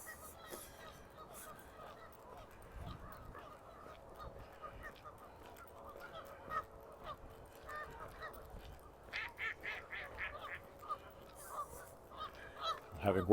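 Geese call back and forth by Wascana Lake in Regina, starting sparse and faint, then a louder run of quick, overlapping honks near the end over low outdoor ambience.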